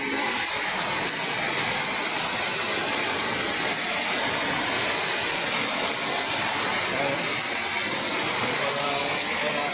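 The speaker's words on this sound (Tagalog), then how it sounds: "Lakas ng ulan." Heavy rain pours down during a typhoon, a loud unbroken rush of water that stays steady throughout, with no voices over it.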